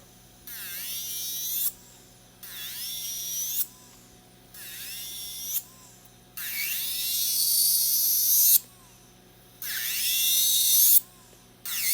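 Coarse grit bit on an iGel Beauty electric nail file, set to 15, whining in a high buzzing tone in repeated bursts of one to two seconds, with brief pauses between them as it grinds bulk off a nail.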